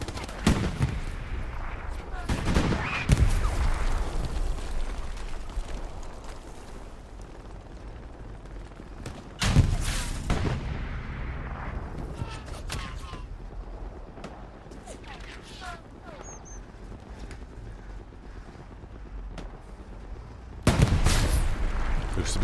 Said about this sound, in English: Dodging some tank rounds in the hard cap.